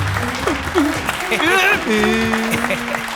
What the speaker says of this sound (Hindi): ताली बजाने के लिए आप लोगों का बहुत बहुत शुक्रिया।